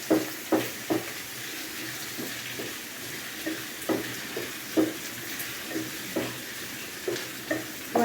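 Crushed pepper frying in a pan while heating for beef curry, a soft steady sizzle broken by repeated light stirring taps.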